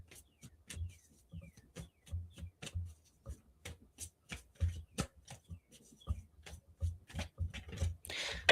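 A deck of tarot cards is shuffled by hand at close range, a quick series of crisp riffling snaps and soft slaps in uneven bursts, with a brief flurry near the end.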